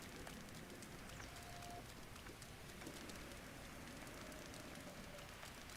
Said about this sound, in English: No, you're not done raining.